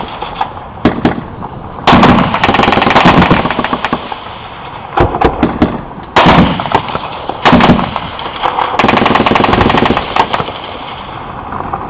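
British Army firefight with the Taliban in Afghanistan: loud bursts of rapid gunfire with sharp single shots and crackling volleys, repeating in clusters over a steady background rumble.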